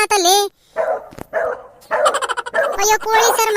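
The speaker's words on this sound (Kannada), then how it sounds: "ಈ ನಾಯಿಗಳು ನನ್ನ ಕಡ್ದು ಸಾಯಿಸ್ತವೆ" Cartoon dogs barking and yipping in short bursts, mixed with whimpers and an excited animated voice shouting over them at close range.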